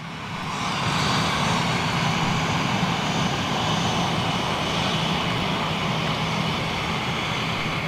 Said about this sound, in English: Flyby Dash going out.